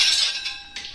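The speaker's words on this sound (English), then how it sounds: "slide this plate in" A plate slides into an oven during brisket dinner prep, a short bright metallic scrape and clink followed by a second softer knock, heard close with no talking.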